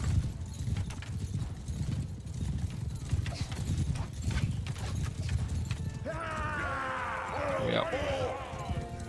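Horse archers gallop in the battle game Mount & Blade II: Bannerlord, a dense, continuous drumming of many hooves close by with scattered clanks, and a horse whinnies loudly partway through, with no speech over it.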